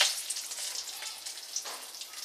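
A bay leaf dropped into hot oil in a pan sizzles and crackles steadily, bright hissing with small popping bursts, close and moderately quiet, with no talking.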